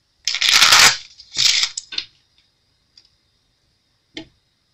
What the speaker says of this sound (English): Alright, last shuffle.